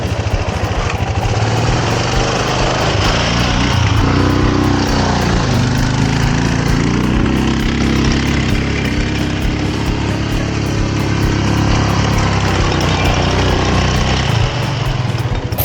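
A quad bike engine runs steadily outdoors in Lagos, a loud continuous motor drone that rises and falls slightly in pitch as it revs, with no talking.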